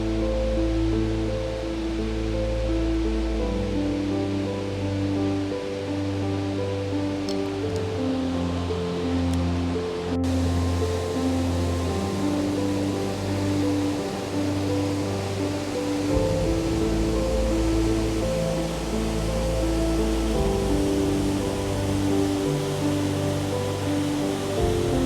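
Strong waterfall roaring nearby, a dense, continuous wash of sound that holds steady from start to finish with no voices.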